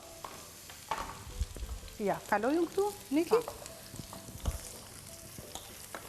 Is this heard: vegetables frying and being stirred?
yes